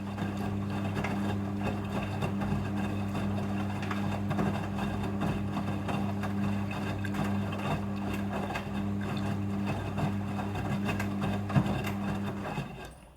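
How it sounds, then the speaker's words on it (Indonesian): Front-loading washing machine rinsing trousers, giving a steady low motor hum with a soft continuous swish and churning of water that holds evenly throughout, at moderate level. "Pada proses pembilasan dengan air, mesin cuci akan mengatur jumlah kebutuhan air secara otomatis."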